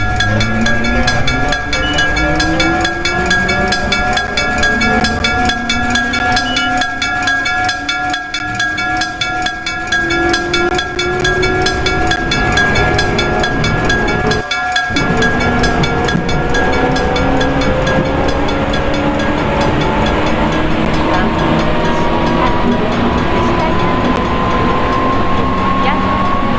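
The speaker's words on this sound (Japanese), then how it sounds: "まもなく下り電車が参ります。" Train pulling into a station in a Roblox railway game, its motor tones gliding upward in pitch as it arrives, loud and continuous under a Japanese platform announcement.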